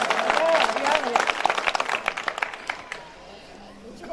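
A poetry gathering audience breaking into a burst of clapping, dense at first and then thinning out and fading within a few seconds.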